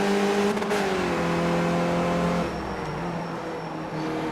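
Race car engine in the iRacing sim racing game: a loud, steady, high engine drone holding for a couple of seconds, then dropping in pitch as the car lifts or shifts, heard alone without commentary.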